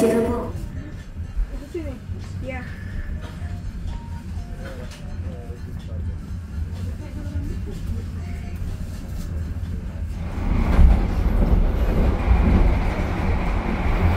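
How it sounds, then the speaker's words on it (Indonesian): The Ranggajati passenger train, a business-class service running Jember to Cirebon in Indonesia, departs and rolls on the rails with a steady low rumble and faint clatter that swells louder near the end, while voices talk intermittently. "kereta api Ranggajati akan diberangkatkan lagi"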